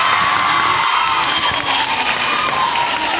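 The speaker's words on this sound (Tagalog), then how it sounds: "Hindi po ako magsisimula hanggat walang palakpakan" An audience at a Bonchon restaurant event in a Robinsons mall claps and cheers in a continuous, loud wash of shouts, whoops and applause with no break.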